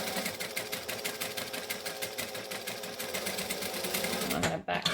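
A sewing machine stitches the neck seam of a Butterick 6094 Christmas dress, its fast, even needle chatter running close and continuously before stopping abruptly near the end.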